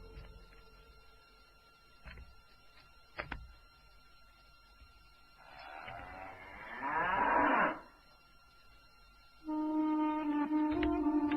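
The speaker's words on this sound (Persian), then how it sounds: "این این آخرین گاومون است." A cow moos twice nearby, first a rough swelling call and then a long, steady, sustained low, with faint knocks and clicks in between.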